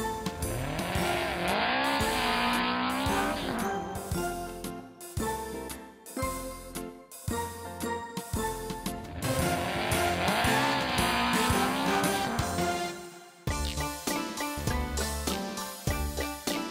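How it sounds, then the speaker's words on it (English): A race car revs hard with squealing tires in two long, loud bursts, separated by shorter choppy engine sounds and followed by a further run of quick bursts. "Race car."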